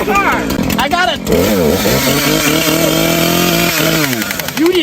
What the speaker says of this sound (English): I can't when you have a chainsaw.